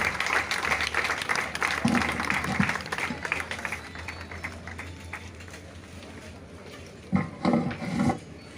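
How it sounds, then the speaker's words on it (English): Applause from a crowd at a prize distribution for a rain run: sustained clapping for several seconds that fades toward the middle, then a short fresh burst near the end. "give her a big round of applause."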